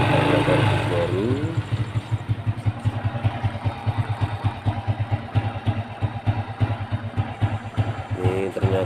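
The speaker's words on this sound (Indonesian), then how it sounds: "Ternyata langsamnya bagus ya karena karbu baru." A motorcycle engine fitted with a new carburetor idles steadily close by, its low, even putter running the whole time, with brief revving bursts near the start and end and no voices over it.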